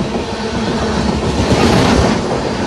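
Shantiniketan Express running between Bolpur and Howrah, heard from inside a 2S coach: loud, steady rumble with a continuous clickety-clack of wheels over rail joints, no voices.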